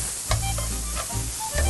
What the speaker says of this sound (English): These are chopped up portobello mushrooms, just the caps. And let that saute for just a minute.